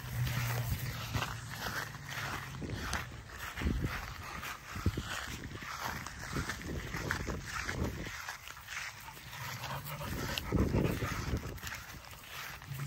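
Two XL Pitbulls run around off leash outdoors, with scuffling paws, panting and rustling movement at close range, uneven and busy throughout.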